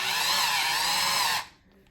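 An electric hand whisk blends at a loud, steady whir for about a second and a half, then cuts off, leaving quiet room tone.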